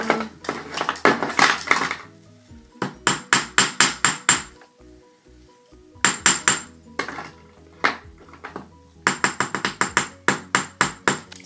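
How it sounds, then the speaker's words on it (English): A metal hammer strikes wire flat on a hard block for wire-wrapped beads, sharp ringing blows in quick bursts of several hits separated by short pauses, close and loud with no talk. "now I'll just show you what that looks like when you hammer it"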